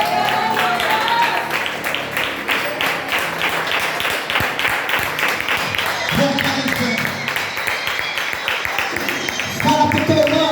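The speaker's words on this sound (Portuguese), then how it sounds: "Se coloca de pé, aplaude o Senhor Jesus." A church congregation applauds steadily at a sustained level under a preacher's voice that speaks over the clapping.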